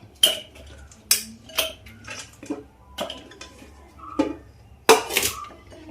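Onion pieces dropped into the plastic bowl of a manual vegetable chopper fitted with a blade produce a series of sharp, separate clacks and knocks, about eight of them, up close with no talk.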